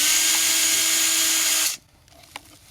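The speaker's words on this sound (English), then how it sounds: "first we'll drill a couple of holes" A power drill whines steadily at high speed, drilling holes in hardwood for a bluebird nest box protector, then stops abruptly, leaving a quiet room with a faint clunk.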